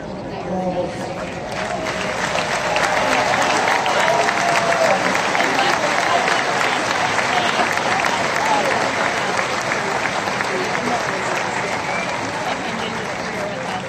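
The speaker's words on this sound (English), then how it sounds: "I'd like all of you to give her a long applause." A large baseball stadium crowd gives a long, roaring ovation during a retirement ceremony at a Tigers game against Tampa Bay, rising within the first two seconds and then holding dense and sustained with cheering and crowd noise mixed in.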